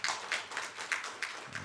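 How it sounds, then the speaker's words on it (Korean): Brief, faint scattered clapping from a congregation during a Sunday morning church service, about six soft claps spaced across under two seconds. "감사하는 의미로 박수 한번"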